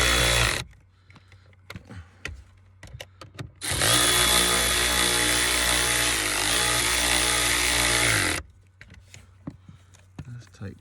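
A power tool drives screws on a Pontiac G6 blower motor during replacement: one sustained loud whir of about five seconds. It sits between quieter clicks and handling noise from the work.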